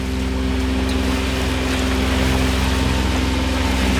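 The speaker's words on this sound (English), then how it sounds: "I put the motor on because it's very sloppy, can't sail in this" An outboard motor pushing a trailer sailboat through choppy water, giving a steady, close mechanical hum with a low throbbing beat that runs unbroken throughout.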